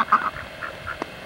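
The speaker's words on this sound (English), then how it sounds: "Now you get to meet the ducks." Backyard ducks let out a few short, nasal quacks in quick succession, moderately close, with a quiet pause between the later calls and no voices.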